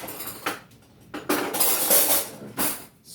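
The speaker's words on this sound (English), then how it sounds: "and then I'm going to stir that around" A utensil stirs food in a cooking pot, producing a few clattering scrapes and clinks of metal against the pot in irregular bursts, close and alone without talking.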